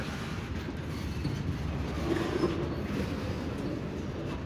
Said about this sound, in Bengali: আসলে এতক্ষণে ইঞ্জিন কিন্তু দর্শনা রেল ইয়ার্ডে প্রবেশ করেছে